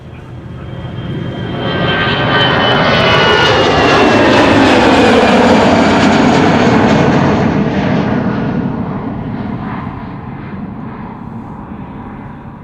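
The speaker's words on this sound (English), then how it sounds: "taking off to Basel, A320, flight 21222." An EasyJet Airbus A320 jet roars through its takeoff roll at Schiphol Airport, a loud broad engine rush swelling to a peak then slowly fading as it climbs away, heard from a distance outdoors.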